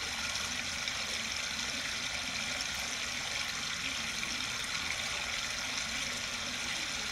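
Stream water pours down a small waterfall in a steady, broadband rushing wash that stays constant and fairly loud throughout, with no voices.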